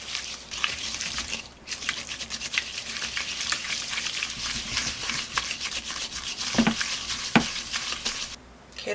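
Batter or melted mixture for chocolate muffins is stirred in a bowl, a steady close scraping and patter with quick repeated strokes and a couple of brief louder knocks, no talking.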